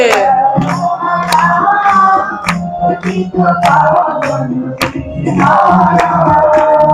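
A crowd claps along in steady, sharp beats to the devotional song Raghupati Raghava Raja Ram, with voices singing the melody throughout.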